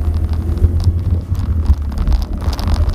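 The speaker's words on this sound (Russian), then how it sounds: "Такой суровый дядька проехал на мопеде." A moped passes by on a road, heard as a loud, steady low rumble blended with wind buffeting, with no talk over it.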